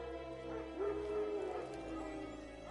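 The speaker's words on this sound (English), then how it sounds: "Wild dogs." Wild dogs bark and whimper in The Witcher 3 video game, a short burst of yipping and whining over a steady low background drone, fairly close and without speech.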